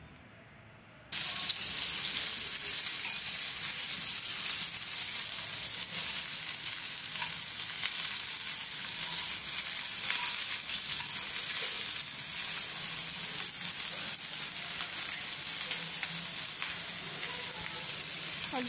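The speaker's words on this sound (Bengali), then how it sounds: "এই ক্যাপসিকাম আর পেঁয়াজটা 1 মিনিটের মতো জাস্ট একটু ভেজে নেব হালকাভাবে" Capsicum and onion frying in a pan for a tiger prawn dish, a dense bright sizzle that bursts in after a second of quiet and holds steady and loud, with faint stirring and no voices.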